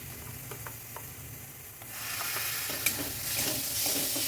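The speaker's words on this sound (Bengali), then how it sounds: "কিছুটা রসুন বাটা দিয়ে নিচ্ছি বন্ধুরা দেখো" Garlic paste dropped into hot oil in a frying pan for a dhaba-style egg curry, quiet stirring first, then a sudden louder sizzle that keeps hissing steadily.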